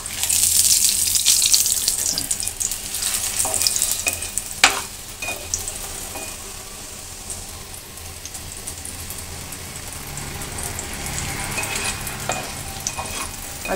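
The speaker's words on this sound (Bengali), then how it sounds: "কেমন হচ্ছে পরোটাটা ভাজা?" A paratha flatbread fries in a pan with a continuous close sizzle, louder at first and then easing, broken by occasional clacks and scraping as it is turned, with no talking.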